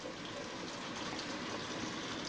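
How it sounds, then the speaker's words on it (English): Lukewarm water pours steadily into an egusi mixture, a continuous, even splashing gush that stays close and fairly loud throughout with no talking. "You want to basically water it down with lukewarm water."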